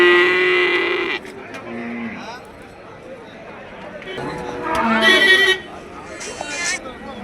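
Cattle at a livestock market in Melapalayam moo loudly in two long calls, near and prominent, amid a background of crowd chatter and people talking.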